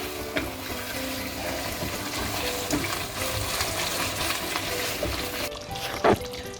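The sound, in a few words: piping hot water poured into lamb curry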